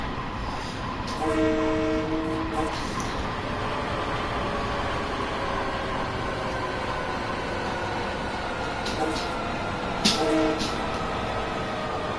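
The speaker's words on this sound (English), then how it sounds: "As you probably guessed, that's the horn." A train horn in the Train Sim World 2020 railway game sounds in two sustained blasts, one near the start and a shorter one later, over a steady rumble of the rolling train.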